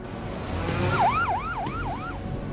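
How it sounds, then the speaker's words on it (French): An ambulance siren wails in a quick rising and falling yelp, four cycles over a low road rumble, moderately loud and fairly close. "ils doivent être transportés en ambulance sous escorte"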